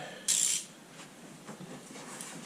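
A wrench cracks loose the 8mm hex gear oil drain plug on a Kubota KX mini excavator, one sharp metallic snap followed by faint, scattered mechanical clicks.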